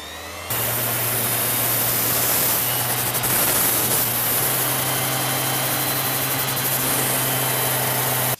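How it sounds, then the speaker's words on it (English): Power sander working a wooden bowl on a lathe in Jamaica, a steady loud whirring hiss with a constant motor hum that starts abruptly and runs unbroken for several seconds before cutting off. "Next we sand it with the sander."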